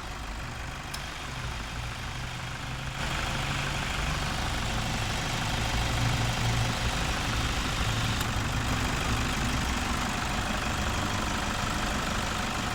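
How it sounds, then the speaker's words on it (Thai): A Toyota Vigo 3.0 E Prerunner pickup, lifted, with a manual gearbox and intercooler, idles with a steady, close, loud rumble. A low drone holds evenly throughout, with no talk. "นี่เครื่องสามพันจัดว่าแจ่มแรงนะ"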